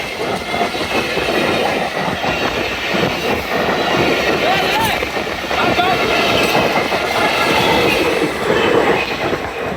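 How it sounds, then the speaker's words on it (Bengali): The Nakshikatha commuter train rolls past the Shyampur rail gate on the Narayanganj line, a loud, close, continuous rumble of wagons with rhythmic wheel clatter and faint squeals sustained throughout. "অলরেডি ট্রেনটি এখন শ্যামপুর রেলগেট অতিক্রম করছে।"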